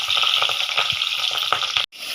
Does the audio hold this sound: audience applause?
no